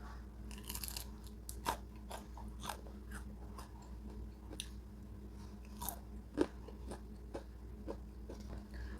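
Close, quiet bites and chewing into crunchy fried chicken give a steady run of soft, crisp crunches with a few louder snaps and no speech.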